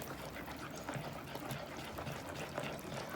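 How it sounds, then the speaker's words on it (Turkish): Batter with oil and salt whisked in a bowl, a faint continuous wet churning and sloshing that stays low and even throughout. "Şöyle yarım çay kaşığına yakında tuz atıyorum tekrar çırpmaya başlıyoruz"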